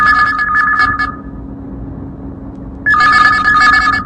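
A telephone rings with a trilling electronic bell on a radio phone-in program, one burst, a pause of silence, then a second ring starting up, loud and close.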